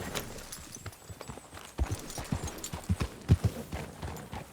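Horse hooves clip-clop at a slow walk in Red Dead Redemption 2, a few soft, uneven steps that grow louder and closer toward the end over a quiet outdoor background.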